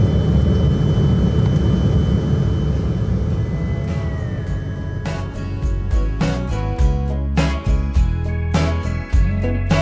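Inside an Embraer 175 jet in flight over Alaska, a steady loud cabin roar of engine and airflow fills the space, with clattering knocks and thumps over the drone in the later half.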